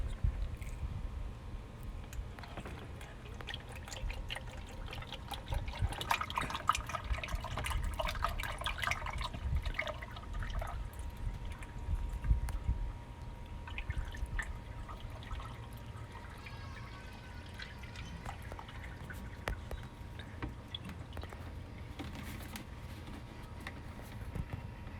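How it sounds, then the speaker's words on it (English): Engine oil pours steadily into the 2.7L four-cylinder engine of a 2019 Toyota Tacoma SR during an oil change, a soft continuous glugging trickle with a few light clinks, close and fairly quiet. "Now we get the oil, we add oil."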